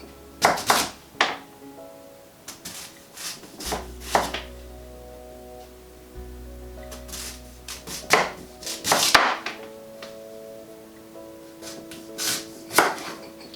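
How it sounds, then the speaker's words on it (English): Knife chopping through sweet potato on a cutting board for fries, with sharp, irregular knocks at close range, first a few scattered cuts and then quicker clusters, with a low hum sitting under part of it. "you can just keep cutting slices off"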